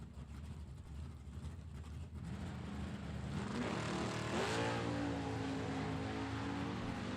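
An '86 Camaro drag car launches at a drag strip. A distant engine roar builds and swells into a loud, rising wail as it pulls away hard.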